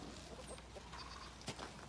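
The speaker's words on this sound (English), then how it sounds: "And the chickens are coming after me." Chickens clucking softly nearby against a steady outdoor background, with a brief louder bump near the end.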